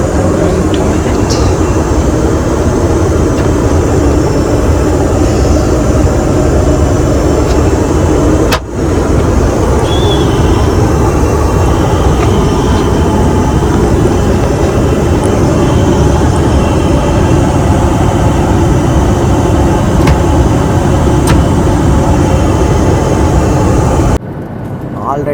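Steady, loud engine roar and airflow fill an airplane cabin in flight, a continuous broadband drone with no breaks apart from a brief dip near the end.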